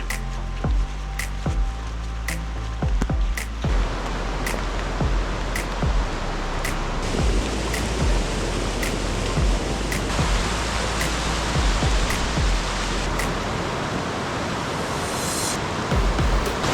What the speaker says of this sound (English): There's a lot of water coming through here right now.